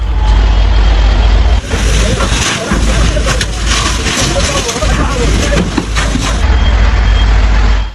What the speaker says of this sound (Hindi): आप देख रहे हैं फायर ब्रिगेड की गाड़ियां मौके पर पहुंच रही हैं